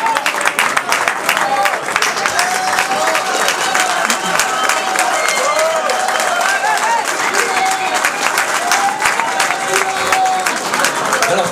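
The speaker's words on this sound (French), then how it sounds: "Vous pouvez l'applaudir, Dylan." An audience claps and cheers steadily after a sports match as a player is called up, a dense continuous patter with voices and shouts mixed through the crowd noise.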